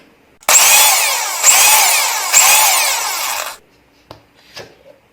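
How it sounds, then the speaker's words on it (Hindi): Blender pulsing thick homemade hummus: three loud, close bursts of whirring motor, each restarting sharply, followed by a couple of faint clicks and knocks after the motor stops. "फिर से इसे 2-3 बार पल्स देंगे।"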